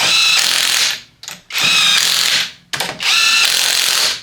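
Wheel nuts on a 2010 Mazda 2 are tightened with a power tool in three loud, close whirring bursts with ratcheting, each lasting about a second, separated by short gaps.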